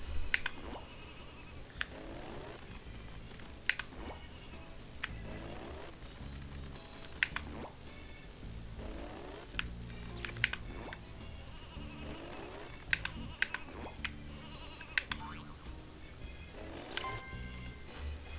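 Sheep bleat repeatedly in the video game Space Station Silicon Valley. The bleats are scattered over a low ambient hum, with sharp clicks like keyboard taps in between.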